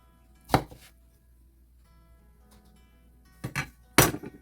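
A Nakano Mito kitchen knife cuts with three sharp chops, one early and two close together near the end, separated by quiet with no talking.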